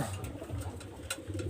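Pigeon cooing close by, a low soft repeated coo running through the short stretch with faint broadband room noise and a few light rustles, no voices.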